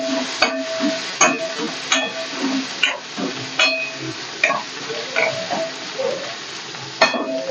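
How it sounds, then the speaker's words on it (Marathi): Washed dried prawns (sode) frying in hot oil for a Marathi dry prawn curry, with a crackling sizzle and regular scraping stirs of a spatula in the pan, close up and without speech. "आपण जे धुवून घेतलेत सोडे ते आपल्याला तेलामध्ये टाकायचे छान परतून घ्यायचे"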